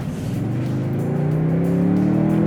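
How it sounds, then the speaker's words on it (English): A Toyota Sequoia full-size SUV accelerates in Sport mode, its engine drone rising steadily in pitch as it pulls hard, loud and continuous from the cabin, with no talking. "All right, let's put it in Sport mode and see how it does."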